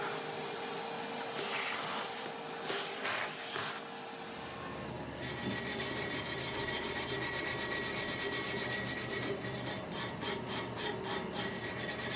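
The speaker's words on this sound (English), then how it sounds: "I used a wire brush to get a lot of the rust off" A wire brush scrubs rust off an old wood stove in a cheap restoration, giving a steady rasping scrape that grows louder and denser partway through, with quick rhythmic strokes near the end.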